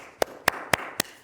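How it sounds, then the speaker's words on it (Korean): Four crisp, close hand claps, evenly spaced about a quarter second apart, offered as encouraging applause for a church choir after a hymn. "박수를 쳐줍니다."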